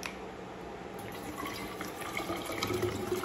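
Water runs steadily from a tap into a glass, a soft continuous splashing trickle close by that builds slightly as the glass fills.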